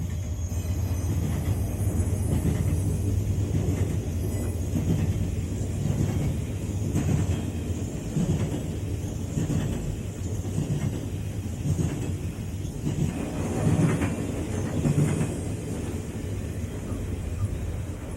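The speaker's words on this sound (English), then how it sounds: "A Triple Crown road railer is the first train encountered upon our arrival at Berea." A Triple Crown RoadRailer train passing Berea Tower, a continuous low rumble and rolling rail noise sustained throughout, fairly close and steady, without speech.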